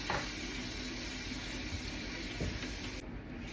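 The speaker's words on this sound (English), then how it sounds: "I am going to have to rinse my hand." A hand rinsed under a running tap, a steady close hiss of flowing water throughout, cutting off sharply near the end.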